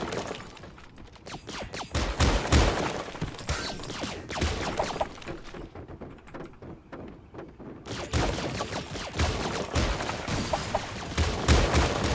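Video game gunfire crackles in dense, rapid bursts with sharp shattering impacts, breaking off briefly near the middle before resuming loud and close.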